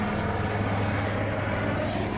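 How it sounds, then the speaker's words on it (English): Steady low droning of a fixed-wing airplane passing overhead outdoors, a continuous moderate hum with tonal engine lines and no talk. "Airplanes flying everywhere."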